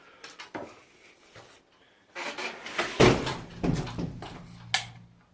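The back door of a knife-making workshop opens with a few clicks and knocks, followed by heavier rattling thuds and a final bang from the latch and frame, close by and without talk.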